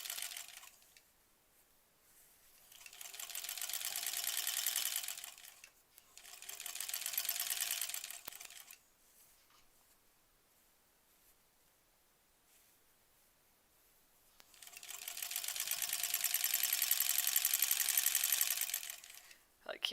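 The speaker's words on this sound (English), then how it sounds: "hearing it kerchunking through all the layers of the blocks, all the seams" A sewing machine stitches through the thick layered seams of granny-square quilt blocks while attaching sashing, three separate loud runs of steady rapid whirring with quiet pauses between them, heard up close with no talking.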